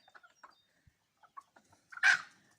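Hens roaming a sunny yard give a few soft, scattered clucks close by, followed by one louder, sharper squawk near the end, with quiet gaps between.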